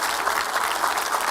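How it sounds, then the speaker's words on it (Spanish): Dense clapping rings out close and fairly loud in a church setting, a steady continuous burst that sounds more like a small group than one person. "Nada más una persona aplaudió."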